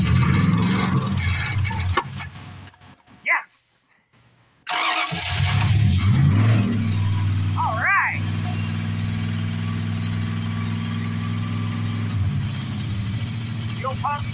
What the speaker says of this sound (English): diesel pump working and everything